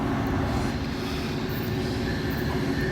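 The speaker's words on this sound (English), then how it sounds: "First train coming. It's the local." A local train pulled by a new locomotive rolls past as a steady, low rumbling drone with a continuous wheel-on-rail roar, moderately distant and unbroken throughout.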